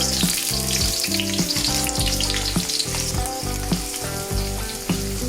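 Onion and garam masala sizzle steadily in hot oil, a loud, continuous close frying hiss with occasional stirring scrapes, while tonal background music plays.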